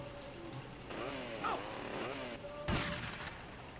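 A chainsaw revs and whines in the Shinobi Vice video game, rising and falling in pitch over a couple of seconds with gunfire-like bursts, moderately faint.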